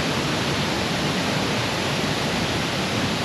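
Thommankuthu waterfall in Thodupuzha, Kerala, pouring in a dense, steady broadband roar of rushing water, close and loud with no let-up.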